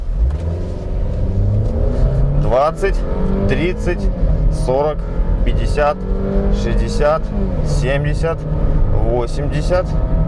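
A Chevrolet Captiva SUV accelerating at full throttle, with close engine drone climbing in pitch and dropping at each gear change, several shifts in a row, while a man counts the speed aloud over it.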